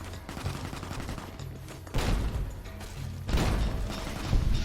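Gunfire and explosions in the video game Fallout: New Vegas, loud and continuous, with sustained shooting broken by two heavy blasts.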